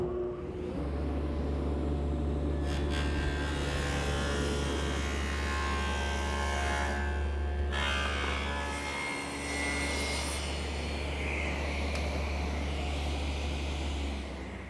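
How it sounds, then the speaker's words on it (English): A table saw blade bevels the top of a wooden picnic table piece in a workshop, a loud continuous whine and hum running steadily throughout with slight shifts in pitch as the wood feeds through. "what I've actually done here is run the piece through the saw blade to bevel the top"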